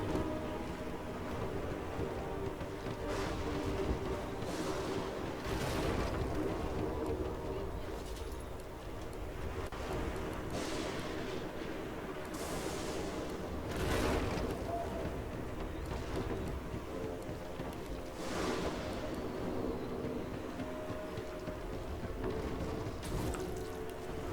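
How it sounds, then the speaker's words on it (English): Water sloshing and waves in Divinity 2, a steady watery wash with surging swells rising and falling all the way through, with faint speech in the background. "Water sloshes inside."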